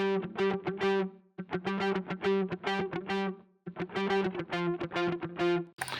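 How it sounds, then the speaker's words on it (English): Plucked electric guitars play a fast, rhythmic riff of short repeated notes, distorted and loud, with two brief pauses between phrases. "we have a couple of pluck guitars that sound like this."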